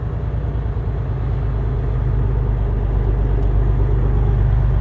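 A truck engine runs with a deep, steady rumble and a low pulsing throb while the driver works through the gears, close and continuous, growing a little louder toward the end.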